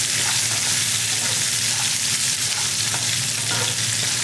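Small shallots dropped into hot oil for tempering fry with a loud, dense, continuous sizzle and crackle, close and steady throughout with faint stirring underneath.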